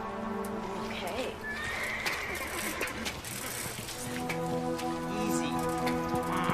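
A skittish horse whinnies clearly amid the shuffle of hooves and steady rain, with people speaking nearby in calm, soothing tones throughout.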